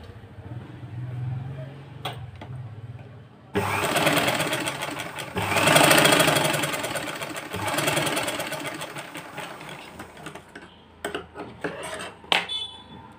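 A sewing machine stitches a blouse lining in a long, steady run of mechanical whirring and rattling, loud and close, with shorter bursts and quiet handling sounds before and after.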